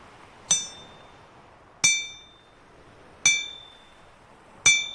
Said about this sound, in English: You dreamt of anvils ringing hard.